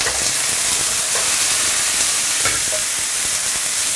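Broccoli and shiitake mushrooms stir-fried in oil with ginger, garlic and dried shallot slices in a wok, giving a steady close sizzle and hiss with faint scraping stirs throughout.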